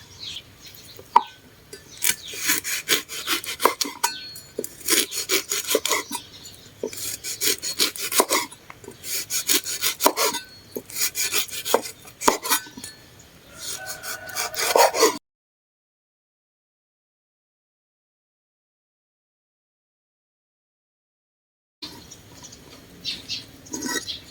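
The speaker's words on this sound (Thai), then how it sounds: "หั่นเปลือกมะกรูดเรียบร้อยนะคะ" Knife slicing kaffir lime peel on a cutting board, a steady run of close, scratchy cuts for about fifteen seconds, a long silence, then a few more strokes at the end.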